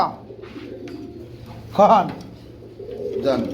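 Pigeons coo in a loose, low burst near the middle, with softer coos toward the end, set among a flock kept for sale alongside eggs; people chat intermittently around them.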